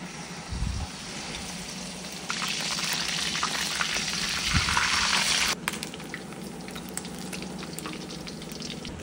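Pork chop sizzling as it is lowered into hot oil, a steady frying hiss that swells louder midway and then settles back to a quieter crackle, close and alone.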